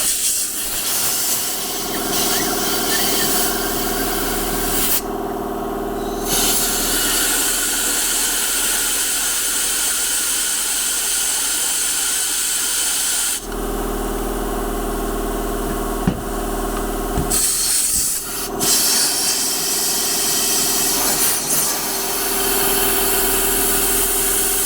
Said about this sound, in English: You'll have to excuse the noise of the compressor,